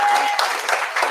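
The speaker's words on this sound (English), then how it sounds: "Give a round of applause." A live audience at a business networking event breaks into applause, a dense steady patter of many hands that fills the whole short moment at close range.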